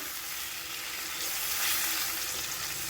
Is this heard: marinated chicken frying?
yes